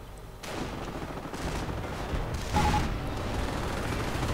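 Tank and anti-tank guns fire in a WWII video game battle, Panthers and German panzers blasting away. The shots are heavy and booming, overlapping in a continuous barrage with one louder blast partway through.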